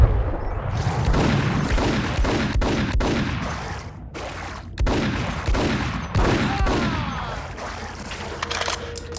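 Shotgun blasts in the Max Payne video game, repeated heavy booms over a chaotic din of gunfire and crashing, with irregular rhythm and a constant low rumble.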